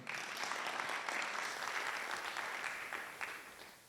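An audience at a music launch event breaks into steady, full applause, a broad wash of many hands clapping that holds evenly before easing slightly at the close.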